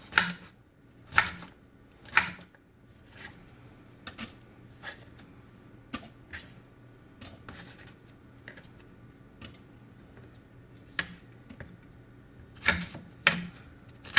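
A knife chops a pepper into tiny strips and cubes on a board, with quiet scattered taps and a few louder clusters of quick cuts; no talking.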